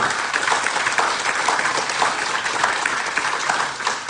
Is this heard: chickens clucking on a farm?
no